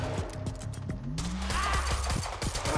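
Gunfire in the action game Quantum Break, rapid bursts of shots crackling loudly and densely over mechanical clatter, with a short rising whine in the middle.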